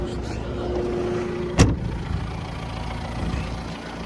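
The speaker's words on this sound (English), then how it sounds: "And let the Roxor slowly warm up." A Mahindra Roxor idles steadily in cold weather as it warms up, a low continuous engine drone with a brief sharp knock partway through.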